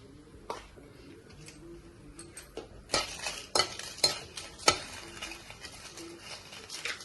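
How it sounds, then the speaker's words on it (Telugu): Ten to fifteen dried red chillies frying lightly in a pan with little oil, a soft background sizzle punctuated by clattering scrapes and knocks of a spoon stirring them. "ఎండుమిర్చి ఒక పది పదిహేను కాయలు దాకా వేసానండి నేను ఇప్పుడై ఫ్రై చేసుకున్నాం"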